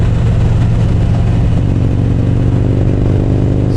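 A Harley-Davidson motorcycle engine rumbles loud and close with a dense, steady low throb that holds evenly throughout, no voices over it.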